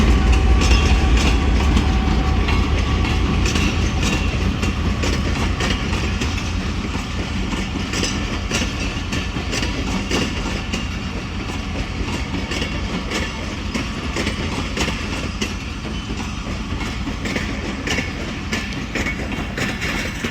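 A government-run rail car rolls through Attock City Junction, a loud, continuous rumble with rhythmic clickety-clack of wheels over rail joints and engine drone, close and sustained throughout.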